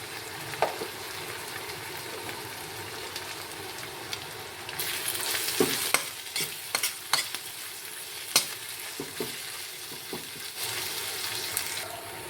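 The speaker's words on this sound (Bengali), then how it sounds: "রসুন দিয়ে দিলাম" Garlic frying in oil in a pan while a spicy pangas fish curry with potato and tomato is cooked, giving a steady close sizzle with sharp bursts of crackle and a few stirring clatters, no talking.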